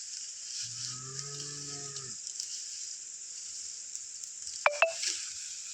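A cow tethered on farmland lets out one long, low moo, followed by a few sharp clicks over a steady high-pitched buzzing background.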